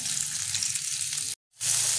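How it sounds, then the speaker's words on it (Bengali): Cauliflower lightly frying in oil in a kadai, a steady bright sizzle that cuts out abruptly for a moment and then resumes. "তো এটা আমি হালকা ভেজে নেব।"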